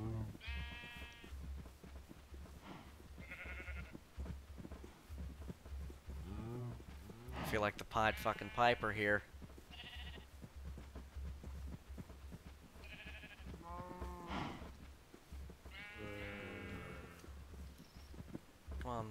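Sheep bleat repeatedly in the Minecraft video game, several harmonic calls spread across the clip with a steady low hum underneath, while someone talks over them throughout.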